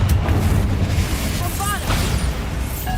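A Confringo fire spell blasts in Hogwarts Legacy, a heavy, continuous booming rumble with brief higher whooshing effects, while a voice talks over the game sound.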